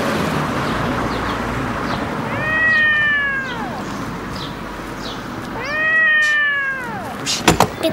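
Small black kitten meowing, two drawn-out close cries a few seconds apart over quiet room noise, followed by a few soft knocks at the end.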